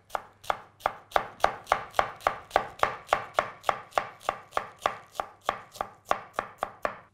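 Knife finely shredding cabbage for coleslaw on a cutting board, a rapid, even run of about twenty-five crisp chops, close and clear with no voices.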